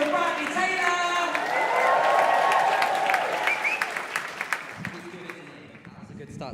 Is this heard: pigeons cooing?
no